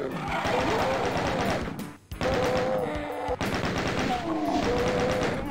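Minigun fire in the Doom video game, a loud continuous rapid burst that stops briefly at about two seconds and then resumes, with faint game effects underneath.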